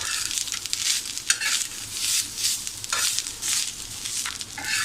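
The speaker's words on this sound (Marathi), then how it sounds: "आता आपलं हे छान असलं खोबरं छान असं मस्तपैकी भाजून झालं आहे." Grated coconut roasting and being stirred in a pan, a steady dry sizzle broken by repeated scraping strokes of a spoon, close and fairly loud with no voices.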